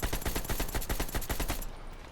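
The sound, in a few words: assault rifle gunfire in Call of Duty Warzone video game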